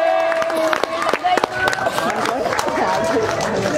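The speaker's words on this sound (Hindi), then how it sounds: "तालियां।" An audience at an Urdu-language team announcement event claps, with sharp scattered hand claps and crowd murmur building into a loose round of applause amid background chatter.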